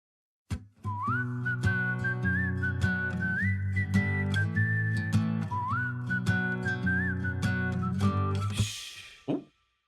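Clear melodic whistling carries a tune over a steady instrumental backing, close and prominent, phrases rising and falling before the music stops abruptly.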